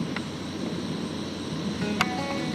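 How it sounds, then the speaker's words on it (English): John Deere 4040 tractor baling hay with a 338 square baler and 42 kicker in Winchester, Connecticut: a steady low engine drone and rumble continues throughout, with a brief sharp clack near the end. "The legendary 4040 doing some baling using a 338 square baler with a 42 kicker"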